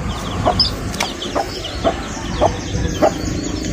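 A broody hen with five chicks three days out of the shell clucks softly and steadily nearby, in a short series of low calls with small bird sounds over faint farmyard background noise.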